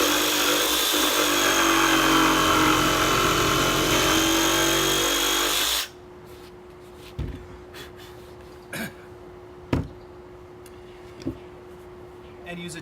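A power tool cuts wood for a chicken coop, a loud, steady whining saw that stops abruptly halfway through, followed by a quiet hum and a few sharp knocks and taps.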